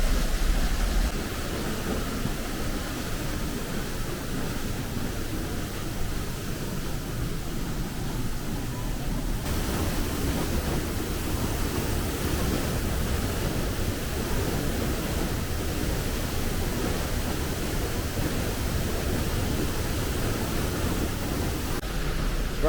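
A waterfall inside a cave in Greece gives a steady, close, rushing roar of falling water that holds at an even loudness throughout, with no clear voices over it.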